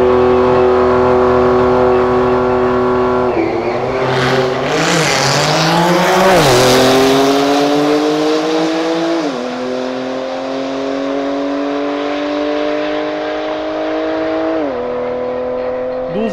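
A Tesla in a street race, its motor whining upward in long rising sweeps while other car engines rev and shift nearby, loud and close with no talk.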